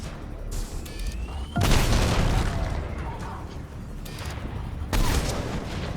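Bomb blasts in Mass Effect 3 combat: two loud, booming detonations, each followed by a long rumbling decay over steady background battle noise.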